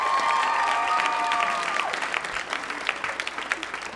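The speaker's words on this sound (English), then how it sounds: "Clap if you're from somewhere else. Clap." A comedy club crowd in LA claps and cheers, a dense burst at first with some whoops, then breaking into scattered, distinct individual claps as it dies down.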